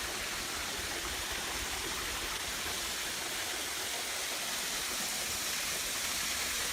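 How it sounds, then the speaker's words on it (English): Waterfall in a Red River Gorge creek valley in Kentucky, a steady broadband rush of falling water, loud and unbroken throughout, with no talking. "The view from the top of the waterfall up here"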